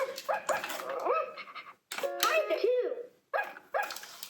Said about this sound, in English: So this is a VTech pull and sing puppy.